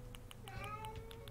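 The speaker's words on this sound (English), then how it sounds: "You guys hear that? It's a loud cat." A cat meows loudly in an Animal Crossing New Horizons game, one drawn-out rising and falling cry over a faint rhythmic pulsing backdrop of game music.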